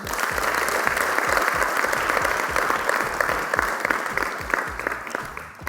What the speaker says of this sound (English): Let's give a bigger round of applause for Team Opposition.